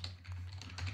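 Keystrokes on a computer keyboard while entering text in a Windows 10 video editor, a quick run of soft clicks over a steady low hum, close and fairly quiet.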